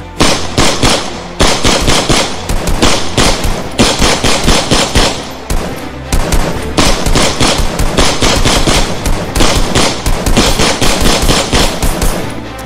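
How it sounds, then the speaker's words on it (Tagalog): Automatic guns fire at a creature in an action-horror story, heard as a nonstop barrage of loud, rapid, dense bursts lasting the whole stretch, with only brief dips between volleys. "Mabilis na itinutok ng tatlo ang kanilang mga baril sa nilalang at walang pag-aalinlangan na pinuputukan ang mga yon."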